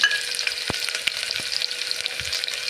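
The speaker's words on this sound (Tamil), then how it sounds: "கடுகு பொறிஞ்சு வரட்டும்" Mustard seeds crackle and pop in hot oil, a dense steady sizzle with scattered sharp splutters, close by and with no voices.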